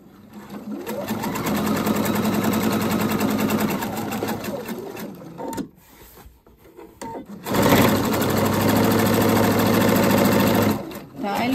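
A sewing machine with its walking foot engaged backstitches on a handmade bag, running loud and close in two long steady stretches of buzzing motor and needle, with a brief slowdown between.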